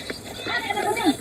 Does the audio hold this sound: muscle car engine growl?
no